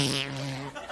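A human mouth imitates a slow, drawn-out fart meant to sound like a turtle, a single buzzy, lip-flapping blurt lasting about a second with no talking.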